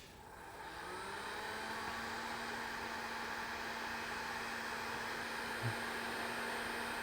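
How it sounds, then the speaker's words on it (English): Heat gun powered by a Ryobi 40-volt 1800-watt power station inverter generator on a single 4 amp hour battery, a steady loud fan whir and airy hiss that ramps up over the first second then holds constant. "So the heat gun, just turn it on and see if we can even use this with one 4 amp hour battery."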